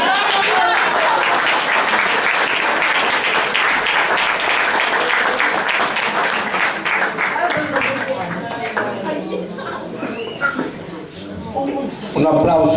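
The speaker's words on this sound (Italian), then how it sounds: "Un applauso più sentito e che un po' sbiadito." Audience applause at an Italian amateur theatre performance, a dense and sustained burst of clapping that runs loud and continuous, thinning slightly toward the end before swelling again.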